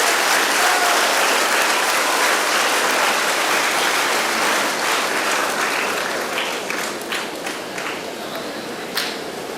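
An audience at a school award event gives loud, dense applause to welcome a winner. It starts full and thins out gradually toward the end as scattered claps remain.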